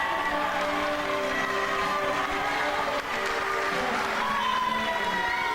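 Steady roar of a wrestling crowd cheering and applauding for Jake the Snake Roberts before his match against Flying Phil Powers, a dense, continuous wash of voices and clapping that holds loud and even throughout.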